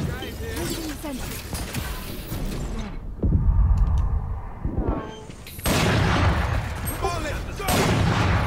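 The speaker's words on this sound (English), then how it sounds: "Placing swarm grenade. Swarm grenade out." Swarm grenades and gunfire in a video game firefight: dense crackling shots and booming blasts in loud bursts, broken by a brief mechanical lull, with voices calling out over the action.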